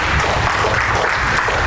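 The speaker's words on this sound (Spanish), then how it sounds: "Aplauso a nuestro Dios." A congregation at a church service claps in a short, dense burst of applause, loud and even from start to finish.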